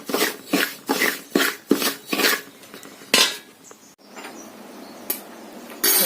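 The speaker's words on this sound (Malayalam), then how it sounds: "നമ്മൾ ഒലേസ് കൂടി വറുത്തുകൊണ്ടിരിക്കുകയാണ്" Rice flour for avalose podi made from red parboiled rice is stirred while roasting in a pan, giving a string of distinct metallic scrapes and clinks of the spoon on the pan, quiet and close with brief pauses between strokes.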